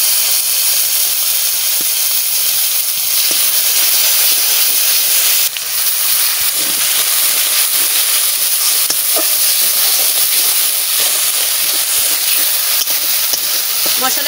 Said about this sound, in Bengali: মশলা ভাজা হয়ে গেছে